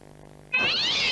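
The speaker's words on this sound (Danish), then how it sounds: "Nu sidder din kat og hyler i gang" A single loud, drawn-out cat meow bursts in about halfway through, following a soft rhythmic hum, close and alone with no talk.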